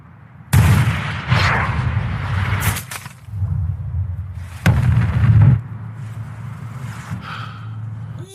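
In a film scene, a sniper rifle fires sharp, sudden cracks, two prominent bursts a few seconds apart. They ring out over a low, rumbling dramatic background.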